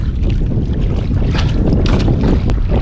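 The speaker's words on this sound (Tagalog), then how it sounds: "Lumalakas na rin yung habagat." A strong southwest monsoon wind blows across the sea from a boat, a loud, steady rush buffeting the microphone with surging gusts and water noise beneath.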